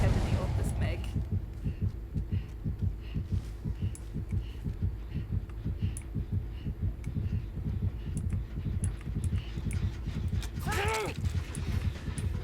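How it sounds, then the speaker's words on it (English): A rhythmic thumping heartbeat from the horror game Dead by Daylight pulses steadily throughout, with a gamer speaking over it and occasional clicks and game effects. "There's a heartbeat."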